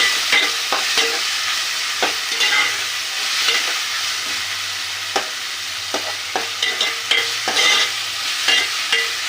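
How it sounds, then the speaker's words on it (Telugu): Ginger paste fries and is stirred in a pan, a steady close sizzle broken by repeated scraping and stirring knocks. "1 స్పూన్ అల్లం పేస్ట్. కొద్దిసేపు వేగనియాలి దీన్ని కూడా."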